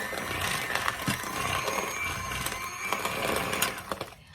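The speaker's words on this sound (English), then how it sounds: "I'm just using a hand mixer, and you know what, it works just as well" An electric hand mixer beats granulated sugar for bacon potato chip chocolate chip cookie dough, a steady close motor whir with light rattling clicks of the beaters against the bowl throughout.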